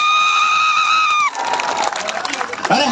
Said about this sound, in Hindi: एक बार ताली बजाए, इतना हिम्मत करने वाला।